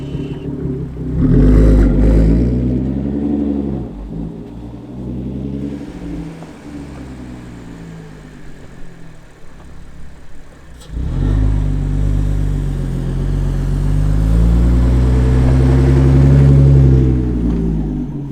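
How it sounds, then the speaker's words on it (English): A car fitted with snow tires drives up a snowy hill, its engine revving and straining in two loud surges separated by a quieter idle, with wheel whir beneath. "here comes take two in this exact same spot with the car on the hill here"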